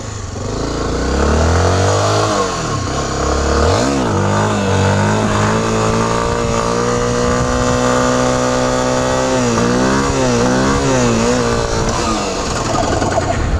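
Several loud motorcycle engines rev repeatedly, pitches rising and falling in sweeping bursts, close by and sustained throughout.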